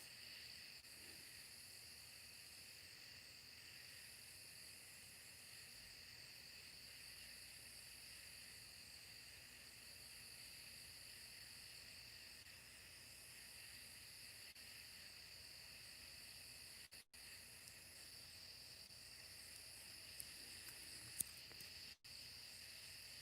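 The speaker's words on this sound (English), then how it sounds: "Can you all hear the crickets out here?" Crickets chirp outdoors at night in a steady, faint, continuous high trill that carries on unbroken, with a couple of brief handling knocks near the end.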